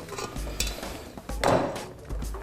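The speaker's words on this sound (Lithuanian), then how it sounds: "Na, o ryžius puode mes maišome." Rice being stirred in a pot while cooking a creamy Lithuanian rice dessert: a spoon scrapes and clinks against the pot in short, uneven strokes, close and moderately loud, with no talk.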